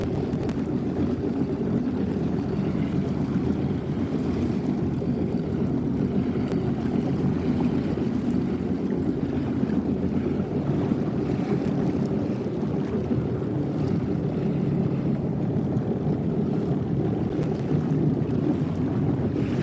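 The Marco Island Princess, a large boat, passes through the Ten Thousand Islands in Florida, heard as a steady low engine rumble and water wash under constant wind buffeting on the microphone.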